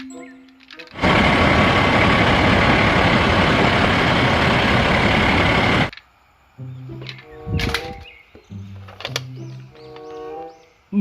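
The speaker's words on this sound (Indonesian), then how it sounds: "Mobil derek." A tow truck's engine roars loud and steady for about five seconds, then cuts off, leaving quieter mechanical clanks and intermittent tonal sounds.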